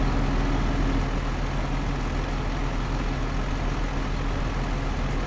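A tractor engine in Farming Simulator 25 hums as a steady, continuous low drone with no breaks, close and fairly loud throughout.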